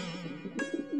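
A pigeon coos close by, a soft warbling throaty call in a single short phrase with a brief sharp click partway through.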